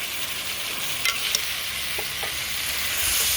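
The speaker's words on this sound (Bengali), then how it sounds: "বেগুনটাকে আমি মশলার মধ্যে কষিয়ে নিই" Eggplant and green mango frying in spice paste for a tilapia curry, a continuous hissing sizzle with a few brief stirring scrapes and taps.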